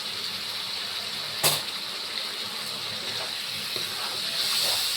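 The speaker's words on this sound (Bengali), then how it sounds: "এটা একটু কষিয়ে নিয়ে আমি গরম জল ঢেলে দেবো।" Hot water is poured steadily into a cooking pot, giving a continuous, even gushing hiss throughout, with a brief clink partway through.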